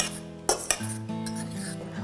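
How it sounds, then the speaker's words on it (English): A fork scrapes and clinks against a bowl while stirring cinnamon and spices together for gluten-free pumpkin muffins, with two sharp metallic taps and a ringing tone after them. "So we're going to fork these together just to mix the spices in a little bit."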